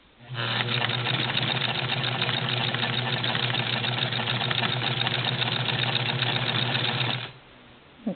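A Necchi sewing machine stitches a buttonhole in one steady, fast, close-up mechanical whir that runs for about seven seconds and then stops.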